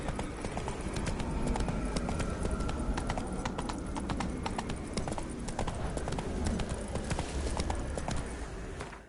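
Horse hooves gallop in Witcher 3, a rapid, continuous clip-clop at close range that runs steadily throughout, with faint background game sound and no talk.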